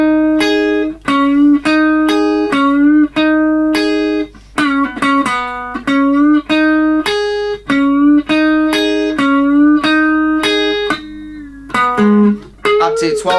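An electric guitar plays the first half of a solo: smooth, sustained lead notes in steady phrases with bends and slides, loud and close, with no talking.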